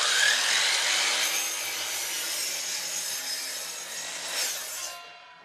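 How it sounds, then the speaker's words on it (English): A cutoff saw cuts Louisiana pecan wood into smoker chunks, a steady, loud, bright grinding rasp running almost continuously, swelling briefly near the end before stopping abruptly, with no talk. "I've got my Louisiana pecan wood, I've got my cutoff saw"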